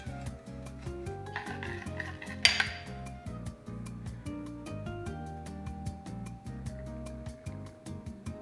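Oven-baked French toast being plated, with dishes, pots and cutlery clinking and clattering steadily at close range, plus one sharper clang partway through.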